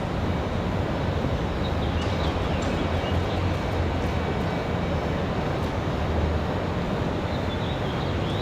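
A steady, loud roar from an Aeromexico Airbus A320 jet airliner departing Raleigh Durham International Airport on a windy day. The engine noise holds evenly throughout, broad and rumbling, with no talk.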